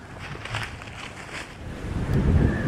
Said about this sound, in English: the wind's picking up a lot. I'm sure you can hear it in the audio